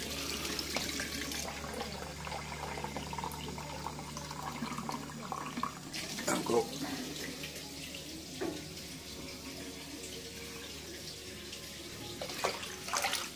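Water runs from a tap into a basin, a steady quiet splashing stream with occasional clinks and knocks, measuring four pints for preserving apples.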